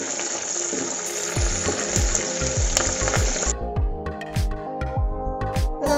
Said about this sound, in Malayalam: തീ കൂട്ടി വെച്ച് തന്നെ വറുത്തെടുക്കാം